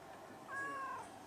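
A pet cat lets out a single short, faint meow, heard alone in a quiet room.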